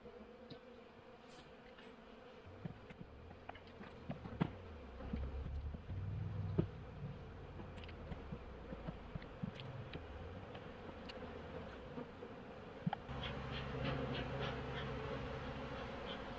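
Honey bees buzz in an opened hive during a late-September inspection, a steady dense drone close by, with individual bees flying past the ear, occasional light clicks and taps, and no voices.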